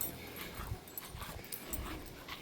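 A new Labrador puppy whimpers and yips in short, soft bursts close by, with no talking over it.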